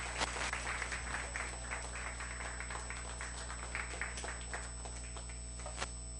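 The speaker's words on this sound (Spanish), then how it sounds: "Y dale un fuerte aplauso al Señor." A church congregation claps for the Lord, a faint, scattered patter of hands heard at a distance over a steady electrical hum.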